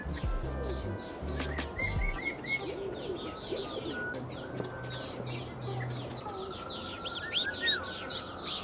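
Birds chirping and cooing inside a savannah aviary at a zoo, many small tweets and calls scattered throughout at moderate distance, with a low murmur of visitor voices underneath early on.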